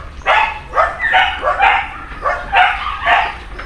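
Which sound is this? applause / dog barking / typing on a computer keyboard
dog barking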